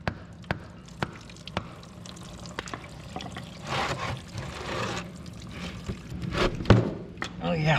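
Water and a little gear oil draining and splashing out of a 1961 Mercedes front axle, a steady trickle with sharp metallic knocks and clanks, while people talk nearby.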